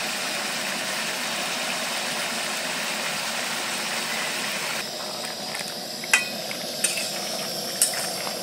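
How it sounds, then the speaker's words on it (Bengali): Chicken stir-fried in a pan with a ground paste of coriander leaves, green chilli, garlic and pepper makes a continuous broad sizzle, later joined by a few sharp spatula scrapes and clicks against the pan. "ধনেপাতা দিয়ে খুব ভালো করে এইটাকে আমি কষে দিচ্ছি"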